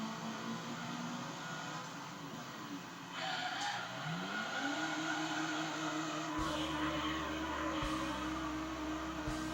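Racing car engine with a V-Racing engine and racing muffler in Gran Turismo 3, droning steadily, then rising in a sweeping rev climb with upshifts, loud and continuous with no talk.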